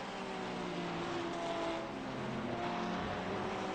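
A Porsche GT3 race car on the infield road course at Charlotte Roval drives through the final chicane, its engine note droning loud and steady throughout, rising and falling slightly as it works through the turns.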